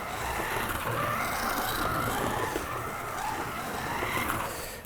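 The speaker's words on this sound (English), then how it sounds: "I turned it into a dirt car track, and it runs cars still." Small slot car whirring around a dirt-surfaced slot car test track, a steady buzzing motor drone with gritty rolling noise running continuously and fairly close, no talk over it.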